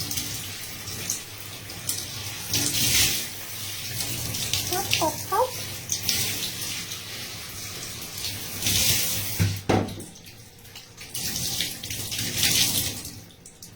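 Cool tap water runs steadily while hair is rinsed, splashing continuously with a few surges as a voice briefly speaks over it.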